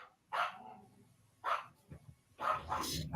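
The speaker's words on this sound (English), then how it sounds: "she's been barking a lot today" A dog lets out a few loud barks in separate bursts, close by, with short quiet gaps between them.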